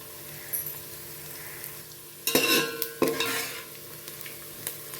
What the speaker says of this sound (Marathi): कांदा पण आपला चांगला परतला गेलेला आहे आणि शेंगदाणे पण असे मस्त परतले गेलेले आहेत